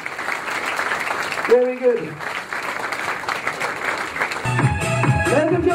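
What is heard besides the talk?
wedding guests applauding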